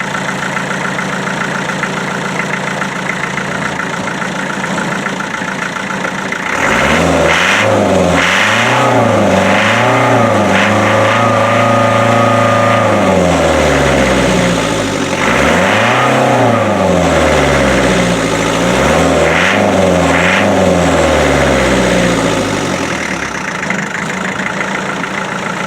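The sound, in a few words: Land Rover Defender 90 2.5 diesel engine revving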